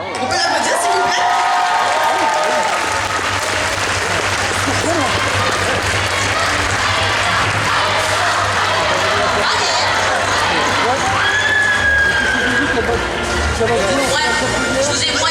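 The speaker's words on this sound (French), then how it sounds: "On peut l'applaudir s'il vous plaît?" Audience applause and cheering for a second-place cosplay contest winner at Bug Days 2022, a loud sustained crowd clapping with whoops and a voice talking over it throughout.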